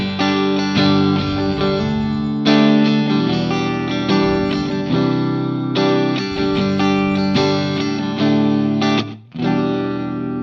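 Distorted electric guitar tone running through an impulse response cab simulation, playing loud, steady chord and riff phrases with sharp attacks and short breaks, no voices.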